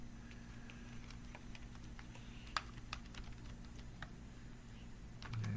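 Keys on a computer keyboard are tapped in short, faint bursts of typing against a steady low hum.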